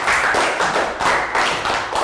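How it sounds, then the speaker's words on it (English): A small group of young students in a Year 3 math class claps close by in quick bursts, with brief swells and dips in the clapping over a couple of seconds. "Round of applause for Pak Boom."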